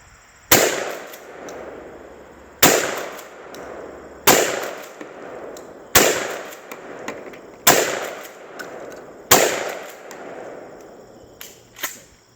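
A shotgun fires six birdshot rounds at a target board 75 yards away: six loud, sharp blasts spaced about two seconds apart, each trailing a short ringing decay, with one fainter click near the end.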